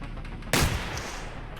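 Single loud gunshot from a turret in the video game Receiver 2, a sharp close blast with a decaying echo tail over a quiet game background, no talk.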